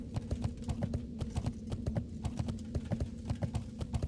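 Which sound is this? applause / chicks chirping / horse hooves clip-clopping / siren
horse hooves clip-clopping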